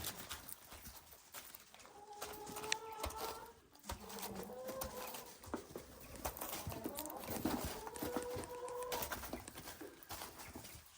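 Chickens on a snowy farm, a rooster among his hens, cluck and call in short repeated bursts over a low, steady background, moderately close, with no talk.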